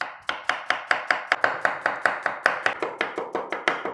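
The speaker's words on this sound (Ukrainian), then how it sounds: "Відрізаю хвостики, огірочок навпіл і нарізаю півкільцями." A knife slices a cucumber into half-rings rapidly and evenly on a cutting board, about five crisp cuts per second, close and clear with no talking.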